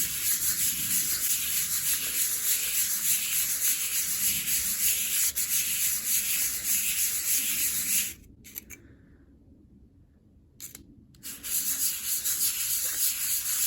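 Grit sanding a knife scale block with even pressure, a steady continuous abrasive rubbing that runs loud and close, pausing briefly for a couple of seconds before resuming.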